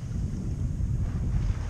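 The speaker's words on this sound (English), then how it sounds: "Wind is still manageable and coming from the north, northwest" Wind rushes over a small sailboat under sail on the Columbia River, a low, rumbling buffet against the microphone with water noise beneath, steady throughout.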